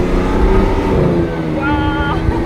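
Lamborghini Veneno hypercar engine heard from inside, a loud sustained roar that dips and rises as a gear shifts partway through, with people talking over it.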